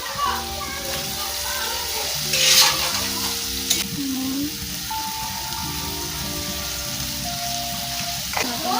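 Potatoes and neem leaves fry in a pan with a steady crackling sizzle and occasional stirring scrapes, while children's voices chatter in the background.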